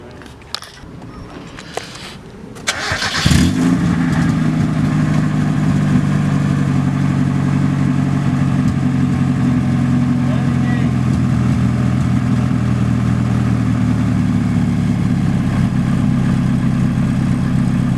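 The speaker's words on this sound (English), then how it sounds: "it has a little bit of a misfire, as you guys can hear" A Mazda Miata with a BP engine, suffering a slight misfire, cranks over and starts after a few clicks, then settles into a loud, steady idle that runs on close by.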